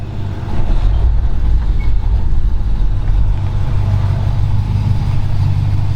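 Ford XY car engine running steadily with a low, heavy rumble, loud and close, holding an even drone with no talk over it.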